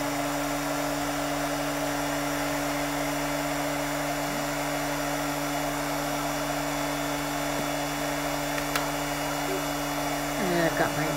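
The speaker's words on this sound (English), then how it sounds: "I'm just heating up my gun a little bit." A heat gun blowing on a gel print card, a steady, loud whooshing hum with a constant tonal whine running throughout.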